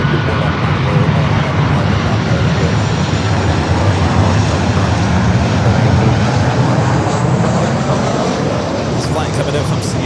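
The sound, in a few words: airliner at Los Angeles airport, A350-1000 pushing back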